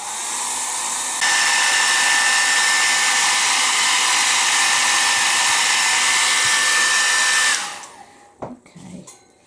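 A hair dryer blows steadily and loudly on a gel plate print for about six seconds, with a faint whine running through the airflow, then cuts off, leaving a few soft handling clicks.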